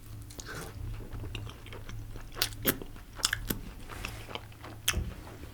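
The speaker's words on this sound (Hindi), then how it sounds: "ये ट्राई करते हैं द ओरिजिनल 1947 बटर चिकन" Someone bites and chews butter chicken at a late-night eatery, with soft wet crunches and chewing sounds in irregular bursts, close and quiet over a low background hum.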